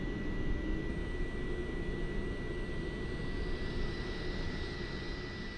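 Four jet engines of an Avro Vulcan bomber running after a cold-and-dark start in a flight simulator game, a steady loud roar with a thin high whine throughout, no talking.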